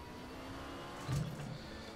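Race car engine in RaceRoom Racing Experience at Imola, a steady turbocharged drone with a brief louder rev swell midway, alone with no talk.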